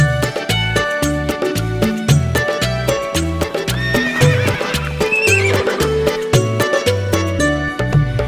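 A horse whinnies and hooves clip-clop in a steady, even rhythm over a bright children's song, with the neigh rising out of the music partway through.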